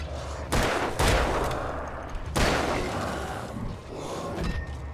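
Bursts of rapid gunfire crack out in a few heavy volleys, loud and close, with brief pauses between them, in the video game Alan Wake.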